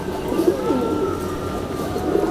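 A racing pigeon gives soft, low, rolling coos close by, several warbling phrases blending into a dense, steady background murmur of other birds.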